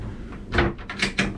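A wardrobe door on a Princess Y85 superyacht opens with a few short, soft knocks and brushing sounds, close and quick.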